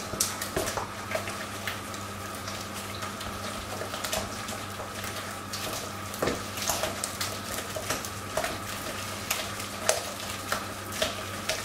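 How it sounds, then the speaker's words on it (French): An egg is beaten quickly into warm choux pastry dough in a pan, with a long run of brisk, rhythmic stirring and slapping strokes over a low, continuous background hum. "Voilà, donc je mets un œuf. Et on remue vite."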